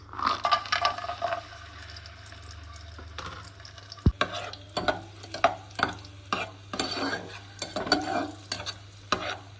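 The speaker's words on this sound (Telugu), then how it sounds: "ఇందులోకి జీడిపప్పు ద్రాక్ష వేసుకొని బాగా ఫ్రై చేసుకుందాం" Cashews and raisins fry in hot ghee, sizzling steadily while a spoon stirs and scrapes the pan in repeated bursts, with one sharp knock partway through.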